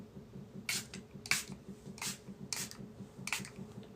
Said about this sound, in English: Okay, and then I'm going to just spray it.